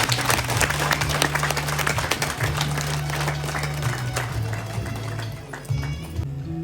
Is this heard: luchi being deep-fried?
no